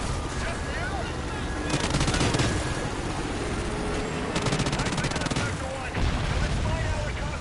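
Sustained machine gun fire in the Call of Duty: Ghosts Extinction mode on Point of Contact, loud continuous rattling bursts over dense game noise, with rapid volleys standing out twice.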